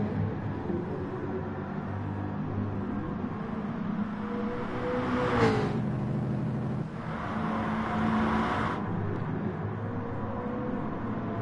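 Race car engines, including a Peugeot, droning around the Suzuka circuit in a GT4 series racing video game, with a steady motor hum and two cars whooshing past close by in quick succession.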